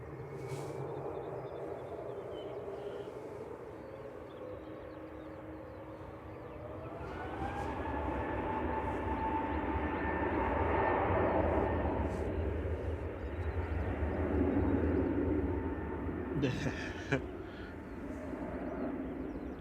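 A Jet2 Airbus A321neo airliner departs Manchester Airport for Geneva. A faint distant jet roar swells, rising in pitch and holding, while a voice talks over it.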